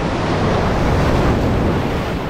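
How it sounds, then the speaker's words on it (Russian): Sea waves surging and crashing against a rocky slab beach in Turkey in December, a loud continuous roaring wash close to the microphone with wind buffeting, no voices. "Сбила, сбила волна."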